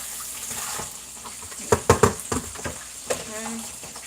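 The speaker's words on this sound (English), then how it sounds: "Just going to wash up the bowl real quick" Water running from a kitchen tap with light splashes and clinks as a bowl is rinsed, soft and close, with a voice talking over it.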